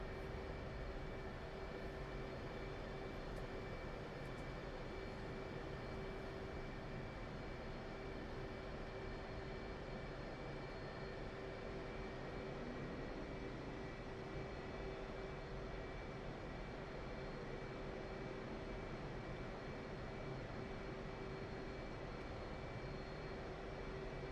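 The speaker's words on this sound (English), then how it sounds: "Just gonna wait for this F-16 to take off and then we'll turn on right behind him" An F-16 jet spools up for takeoff in the DCS flight simulator game, a steady distant engine roar and whine holding constant throughout with a sustained tonal hum.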